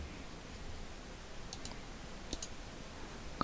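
Computer mouse clicks while drawing a sketch in SolidWorks 2015 CAD software: two quick pairs of faint, crisp clicks over a quiet room hiss, with no talking.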